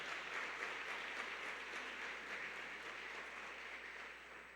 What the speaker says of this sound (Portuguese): aplauda bem forte o nome de Jesus